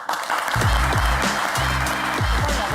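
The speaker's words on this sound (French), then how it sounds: "Et les applaudissements" TV game show studio audience breaks into applause, a loud continuous wash of clapping over booming bass beats of show music.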